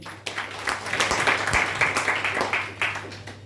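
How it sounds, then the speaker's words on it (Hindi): An audience at a product presentation breaks into steady, scattered applause that carries on throughout, fairly distant and moderate in level. "एक बार ताली हो जाए इसके लिए।"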